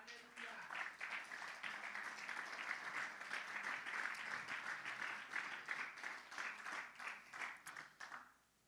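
Applause rises through a church congregation during a Spanish-language sermon, a steady stream of sharp individual claps at fairly close range that holds evenly before breaking off abruptly near the end.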